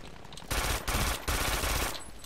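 In the shooter game Brink, automatic gunfire rattles out in two sustained bursts with a short gap between them, loud and dense, and no voices over it.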